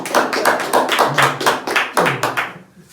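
A small crowd at a stand-up comedy open mic claps loudly in quick, fairly even bursts. The applause fades out over the last half-second.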